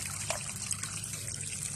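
Water trickles gently and steadily at a low, close level, with small splashes and no talk over it.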